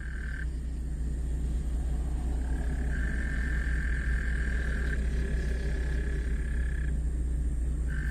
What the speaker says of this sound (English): Yeah, the frogs are really happy we got rain.